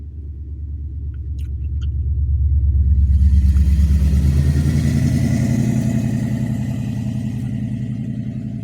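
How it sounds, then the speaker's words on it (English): Two motorcycles roar past, their deep engine rumble swelling as they approach, peaking loud, then easing off in a revving drone as they move on. "You heard the two motorcycles fucking roar past me, revving their engines."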